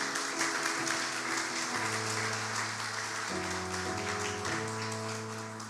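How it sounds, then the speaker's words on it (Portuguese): A church congregation applauds during a communion service, a steady spread of clapping heard fairly softly beneath sustained organ or keyboard chords. "Aplaudam ao Senhor."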